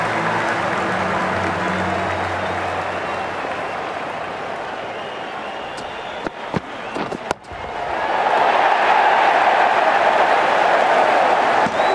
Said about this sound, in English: The crowd's on their feet, probably hoping they can catch a 6.